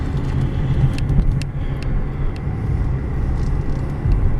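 A 2003 Mercedes-Benz E320 on the road during a test drive, with a steady low engine and road rumble heard from inside the cabin, loud and continuous, no talking.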